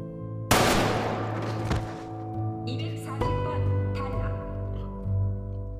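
A single loud gunshot in a drama scene, a sharp close crack followed by a fading tail, over a steady background tone with a faint second impact later.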